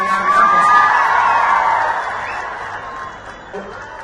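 An audience at a government event applauds in a dense, sustained wash of clapping that swells early and then gradually fades, with faint crowd voices mixed in.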